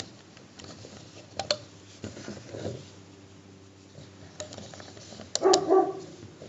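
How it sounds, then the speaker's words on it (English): Dogs inside a house let out a short burst of barking near the end, preceded by faint ticks and light tapping from loom beadwork nearby. "And yes, there are dogs in my house."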